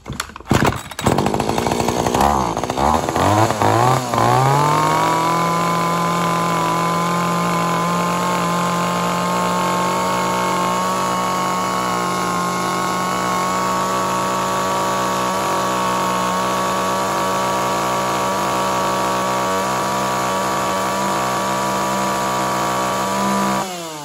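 Used Japanese Shindaiwa/Echo EC5 chainsaw with a 45 cm bar starts up, sputters and revs, then settles into a loud, steady, continuous engine drone close by, with no talking.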